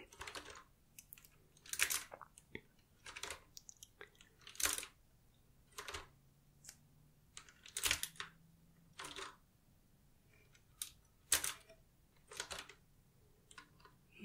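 Crisp clacky keystrokes on a Qwerkywriter S typewriter-style keyboard, typed in short irregular bursts with brief pauses between them, close and fairly quiet, with no voices.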